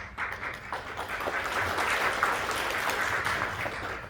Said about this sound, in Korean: 앞에 네 분의 세션 1을 구성해주신 연자분들께 다시 한번 박수를 좀 부탁드리고요